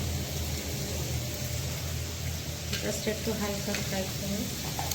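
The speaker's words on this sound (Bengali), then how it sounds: "হালকা একটু ফ্রাই করবে।" Bay leaves and cloves fry lightly in oil for mutton momos, a steady soft sizzle running throughout with faint stirring scrapes near the pan.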